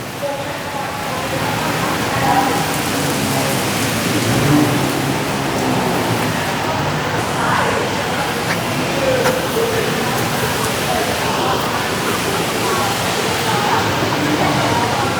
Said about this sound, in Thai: เสียดายฝนตกพี่น้อง